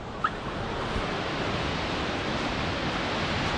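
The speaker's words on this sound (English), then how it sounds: "Both falls are running today." Waterfalls running at Fall Creek Falls on a snowy day, a steady, dense roar of falling water that fills the scene without pause, heard from a viewpoint.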